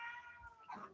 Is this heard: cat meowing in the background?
yes